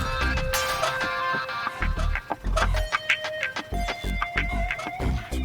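In the video game Chaos on Deponia, a bird gives a run of choppy clucks over busy game music and effects. The clucks come in uneven bursts at moderate loudness.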